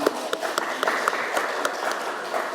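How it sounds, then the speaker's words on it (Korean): A church congregation at a Sunday service claps in welcome, a light, steady patter of hands from a modest crowd. "다시 한번 박수로 환영합니다"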